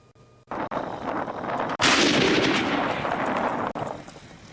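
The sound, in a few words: artillery firing during a live-fire exercise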